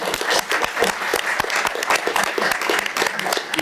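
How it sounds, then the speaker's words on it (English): A loud round of applause for a councillor at a Basingstoke council meeting, many hands clapping close and crisp, sustained and lively throughout. "Can we just give Jay a massive round of applause?"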